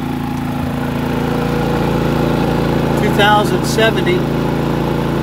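A Predator 3500 gasoline generator engine hums steadily near the microphone, with someone talking over the even drone.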